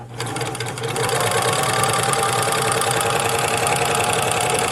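A Singer U234 serger runs steadily under pedal power, chaining off thread with a loud, close, continuous mechanical whir and rapid rhythmic stitching clatter that starts after a brief quieter moment.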